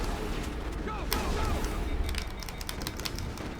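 Shotgun blasts from the Mass Effect video game, several sharp bursts clustered through a busy combat scene with background game noise throughout.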